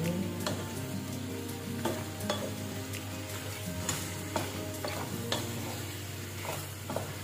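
Beef and broccoli stir fry sizzles steadily in a hot pan while a utensil stirs it, with repeated scraping clicks and taps over the constant frying hiss, up close.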